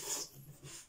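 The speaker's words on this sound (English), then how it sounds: "Dog's back." A dog makes faint, soft snuffling and panting breaths close by in a quiet indoor room.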